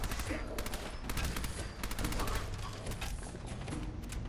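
Sustained automatic gunfire in Fallout 4, fired in rapid bursts that crackle continuously at moderate loudness, with a few short pauses between volleys.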